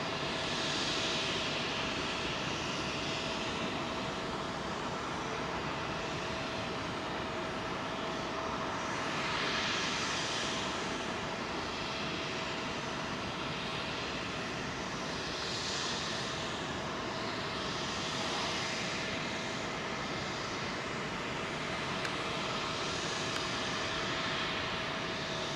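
Etihad jet airliner at London Heathrow runway 27L, a distant, steady engine rumble with a faint whine, swelling gently in waves over a long stretch with no voices.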